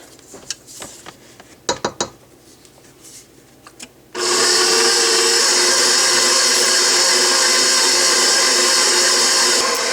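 A mixer kneading sticky spelt sourdough bread dough starts abruptly after several sharp knocks and scrapes, then hums at a loud, steady whir until the end.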